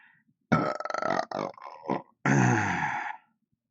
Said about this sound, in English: That was a nice burp.